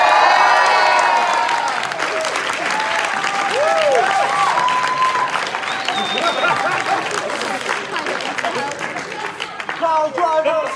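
A live debate audience at Politicon applauds, cheers and whoops, loud crowd clapping running the full length with shouts, while a voice is heard over it.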